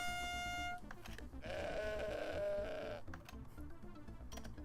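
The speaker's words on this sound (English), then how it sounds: "I like that it specified weird goat ba." A strange, synthetic-sounding goat bleat from a Jackbox party game rises as one wavering cry lasting over a second, played amid other game sounds and background noise while people chat.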